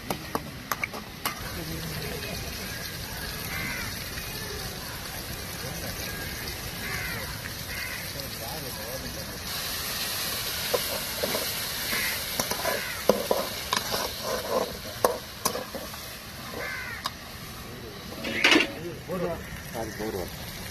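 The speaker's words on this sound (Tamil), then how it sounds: "கடாய் வச்சு எண்ணெய் ஊற்றியாச்சு, கடுகு போட்டாச்சு, வரமிளகா, வெங்காயம், தக்காளி கொஞ்சம் பேஸ்ட் வர வரைக்கும் நல்லா வதக்கிங்க." Onion, tomato and dried red chilli sauté with mustard seeds in hot oil in a kadai, a continuous sizzle broken by repeated stirring scrapes and clinks, heard under a person talking.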